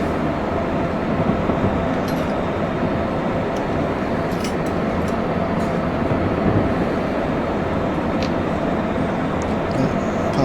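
A fast passenger train rushes past on the line to Bridgeport in the railway simulator Train Sim 2020, a steady, loud rumbling roar of wheels and engine that holds evenly for about ten seconds with no talk.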